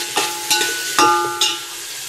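Cut potatoes with ginger garlic paste sizzle in a hot pan, a steady frying hiss broken by several sharp bursts as the pieces are stirred and tossed, close and loud with no talking.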